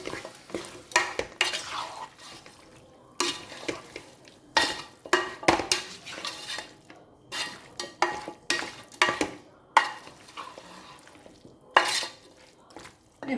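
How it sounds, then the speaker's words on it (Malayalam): A kilo of chicken being sautéed and stirred in a pan for curry, repeated metal spoon clanks and scrapes against the pan over a light sizzle, close up and with no talking. "നന്നായിട്ട് വഴറ്റാം."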